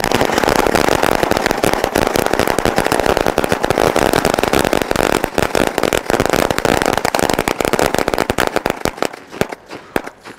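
A long, rapid string of a thousand Diwali firecrackers crackles and pops continuously, loud and dense, thinning out into a few final bangs near the end.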